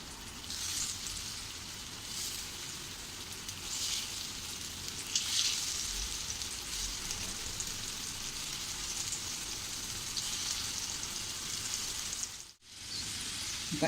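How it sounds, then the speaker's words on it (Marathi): Potato slices coated in semolina fry in hot oil with a continuous, soft, crackling sizzle, like light rain. The hiss stays steady and fairly quiet throughout, with a brief dip near the end. "अशाच प्रकारे आपण जे उरलेल्या काप आहेत ते आपण फ्राय करून घेऊया"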